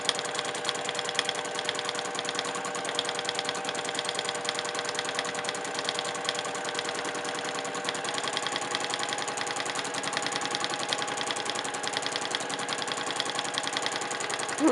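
A sewing machine runs continuously during free motion quilting, its rapid even needle rhythm close and steady from start to finish with no voices.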